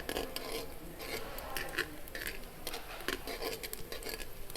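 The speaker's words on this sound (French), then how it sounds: "je remue un petit peu mes oignons" Onions are stirred in a Cookeo Touch multicooker, with a steady, close scraping and light sizzle and intermittent utensil clicks against the pot running continuously without speech.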